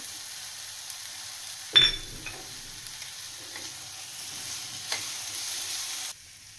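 Grated coconut filling with melting jaggery, charoli, cashews and almonds is sautéed in a pan, giving a faint, soft sizzle with a louder scrape near the start and occasional quiet stirring clinks, no voices.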